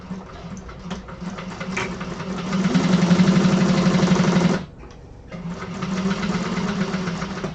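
A sewing machine basting fabric with a long stitch, running as a steady mechanical whir. It speeds up and grows louder partway through, stops briefly, then starts again, close by and with no talk.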